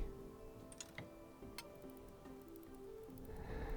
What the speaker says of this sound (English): When I give these watches a shake, they tick gently.